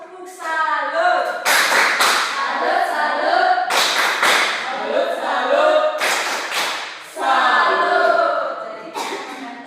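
A primary school class performs a rhythmic clapping routine, with bursts of sharp group claps in a repeating pattern alongside children chanting together, loud and close.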